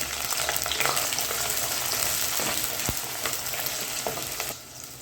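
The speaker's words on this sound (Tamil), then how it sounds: "ரெண்டு நிமிஷம் நல்லா அந்த பூண்டு பல் வதக்கி விட்டதுக்கப்புறமா பத்து சின்ன வெங்காயம் பொடியாக நறுக்கினது சேர்த்துக்கிறேன்" Steady close sizzling of garlic and chopped shallots sautéing in a pan, with occasional scrapes and taps of stirring, fading slightly at the end.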